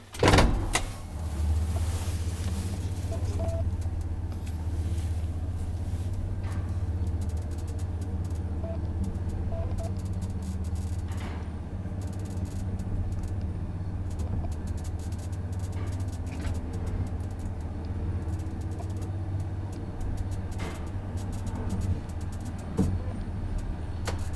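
Steady low mechanical hum of an old 1961 Epilän Konepaja traction elevator running continuously, with occasional faint clicks and knocks over the drone.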